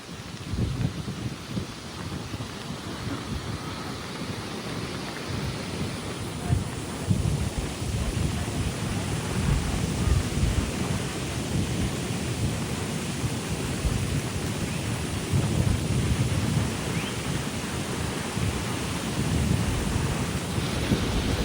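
Heavy rain pours steadily on Boracay island in the Philippines, a dense broadband roar with low rumbling that may be thunder, continuous and fairly loud throughout with no clear talk.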